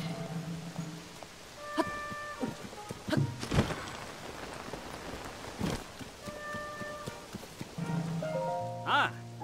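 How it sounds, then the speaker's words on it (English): Rain falls steadily in Zelda: Tears of the Kingdom, a soft continuous patter under game music and someone talking, with a few sharp thumps and an electronic chime near the end. "Look at you working through the rain."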